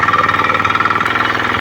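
Tractor engine running loud and close near a flooded paddy field, a steady rapid chugging pulse with a low harmonic drone that cuts off abruptly at the end.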